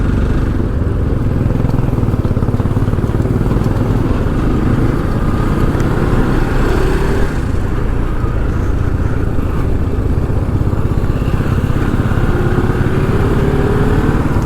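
A motorcycle engine runs steadily and loudly throughout, a continuous low rumble close by with no speech over it, heard during a long-distance bike ride.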